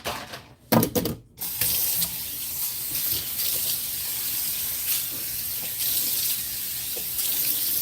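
Tap water runs steadily into a kitchen sink while a drain screen is rinsed clean, a continuous close hiss and splash after a few brief clattering knocks at the start.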